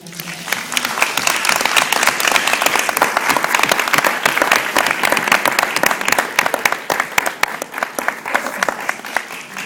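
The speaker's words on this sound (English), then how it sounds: "Please give her a round of applause as she comes back." A crowd at an alumni scholarship speech event claps steadily for close to ten seconds, a dense, even roar of many hands with faint voices underneath.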